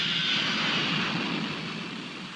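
Cartoon fighter planes roar past with a loud aircraft engine whine, strong at first and slowly fading as they pull away, with no talk over it.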